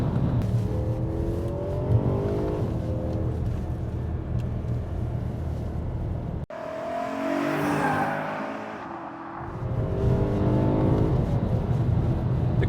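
BMW E92 M3 Competition with its V8 engine revving up and down while driving, a loud, steady engine drone with rising harmonics and a brief dip mid-way as the revs climb again.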